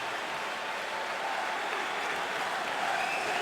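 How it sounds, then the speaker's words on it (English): A large crowd at a New York hockey game cheers and applauds loudly after a goalie's glove save, a dense, sustained roar that holds steady throughout. "gets a big cheer from this big crowd here in New York"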